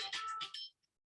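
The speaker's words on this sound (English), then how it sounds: "oh, sorry, I didn't turn my phone off." A mobile phone ringtone going off during a lecture, a short bright chiming burst that cuts off abruptly into silence, fairly quiet and heard alone.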